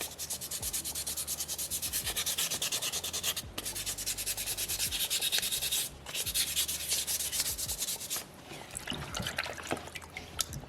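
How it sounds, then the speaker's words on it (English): A small soapstone orca carving is smoothed by hand, producing a continuous close, gritty rubbing and scraping in steady strokes, with a couple of brief pauses. "we can shape and smoothen this rock"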